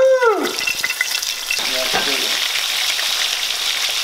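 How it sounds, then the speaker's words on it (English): Fish frying in hot grease, a dense steady sizzle with crackling pops that runs nearly the whole time, following a brief voice at the start. "that grease is popping"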